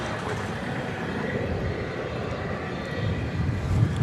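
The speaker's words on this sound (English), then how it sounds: "there's a 777 going through the background there" An American Airlines Boeing 777 bound for London Heathrow passes at night at Dallas Fort Worth airport, a steady low engine rumble in the background that grows slightly louder toward the end.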